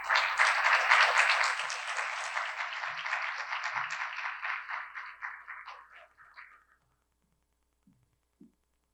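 An audience at an international criminal justice policy forum applauds to welcome a speaker: full, even clapping that gradually thins and fades out over several seconds into near silence.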